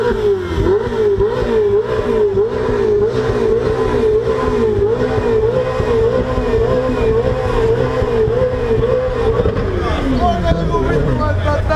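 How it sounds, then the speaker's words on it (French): A first-generation Lamborghini Gallardo with non-original exhaust passes in Monaco during the Grand Prix, giving a loud, close, rising and falling engine roar and revving throughout, with someone speaking French over it. "Lamborghini Gallardo première génération."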